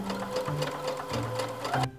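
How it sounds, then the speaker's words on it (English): A sewing machine top stitching a dress lining, its rapid even whirring run lasting about two seconds before it stops abruptly. "We're gonna try and top stitch this down."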